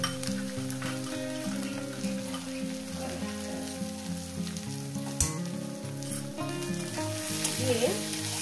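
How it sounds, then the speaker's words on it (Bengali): Masala and green tomato fry in a pan for an egg curry, giving a steady sizzle with light stirring. It runs continuously at a moderate level beneath sustained tonal background sounds. "এখানে মশলার সঙ্গে আমি টমেটোটাকেও ভেজে নেব।"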